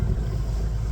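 Strong gusting headwind over a lake, roaring steadily and loudly with heavy low buffeting, close and continuous with no speech.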